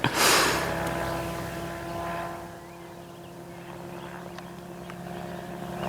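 A steady propeller engine drone carries throughout as an ultralight aircraft comes in for a solo landing. A brief rush of noise opens the stretch, then the hum holds at moderate loudness with no talk.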